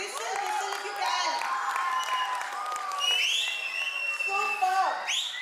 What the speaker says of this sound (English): The cheer needs to be louder.